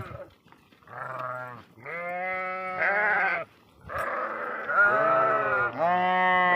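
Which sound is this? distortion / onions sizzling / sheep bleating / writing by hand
sheep bleating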